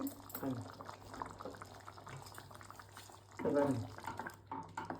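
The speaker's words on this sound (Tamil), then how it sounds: "குழம்பு நல்லா கொதிச்சுட்டு அடுப்பை அணைக்கிறேன்" Ennai kathirikai kulambu, a Tamil brinjal curry, bubbling steadily in a pot on the stove, with a soft continuous simmer and a louder burst of bubbling near the end.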